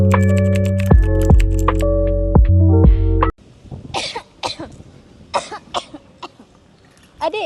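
Several scattered dry coughs from a person with tuberculosis, close and irregular, after a stretch of tonal chiming music that stops abruptly.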